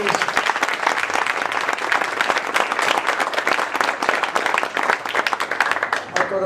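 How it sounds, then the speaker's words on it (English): A large audience in Copenhagen gives a sustained round of applause, dense and steady clapping filling the room throughout, with some voices mixed in. "Give a big round of applause."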